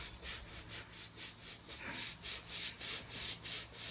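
A brush scrubbing the floor of a stable's horse wash bay, with close, rhythmic back-and-forth strokes, roughly ten even rasping passes with no talking.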